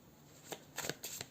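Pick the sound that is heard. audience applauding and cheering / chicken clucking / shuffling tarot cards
shuffling tarot cards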